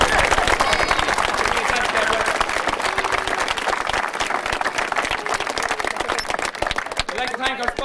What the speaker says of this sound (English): Give them a big round of applause for that.